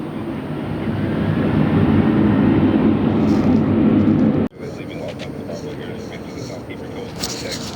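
A Boeing 777 airliner at LAX roaring past with a loud, broad engine rumble that swells and holds, then cuts abruptly to a quieter, steadier background drone.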